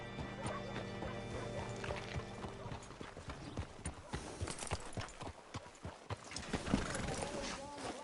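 Steady clip-clop of horse hooves with an occasional whinny, under a continuous backdrop of Red Dead Redemption 2 game ambience and some talking voices.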